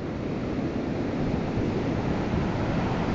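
A constant, loud wash of crashing surf at Praia Seca beach, Araruama, Brazil, mixed with wind buffeting, an unbroken roar of waves close by.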